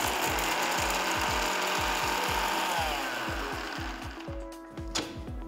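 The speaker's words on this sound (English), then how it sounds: "Grind the ingredients to a nice fine powder." Electric mixer grinder grinding roasted masala spices into powder in a mixer jar, a loud steady whirring with a fast rattling pulse that slows and fades near the end.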